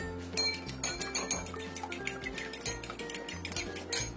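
Two eggs whisked in a bowl, producing a rapid, steady run of close metallic clinks and taps. The clinking keeps a fast, even rhythm throughout, with no talking.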